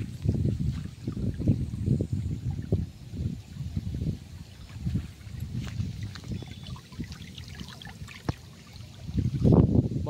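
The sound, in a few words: rainwater flowing through flooded fields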